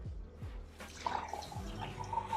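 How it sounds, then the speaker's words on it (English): Water poured into a glass in a video game, a bubbly, trickling pour with a few low gurgling swoops and bright clinks, fairly quiet and alone. "I never thought pouring water in glass could sound so weird."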